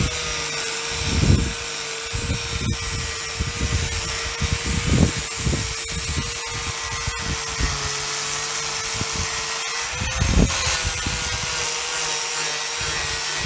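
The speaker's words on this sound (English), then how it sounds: "So here's wifey grinding away at the bow." A power grinder works steadily on a boat hull at the bow during patching and fairing of the portside, a continuous mid-level drone with a steady whine and repeated scraping surges as the tool is pressed and moved.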